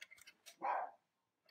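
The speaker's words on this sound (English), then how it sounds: "Dog's going crazy in the background" A dog barks in the background of an indoor room where a SEGA Genesis console is being repaired, giving one fairly faint, distant bark with a few sharper yips around it, then silence.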